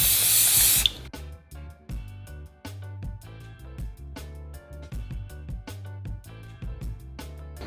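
A short hissing burst of cooking spray hits baking paper in a tray, lasting under a second, then gives way to rhythmic background music.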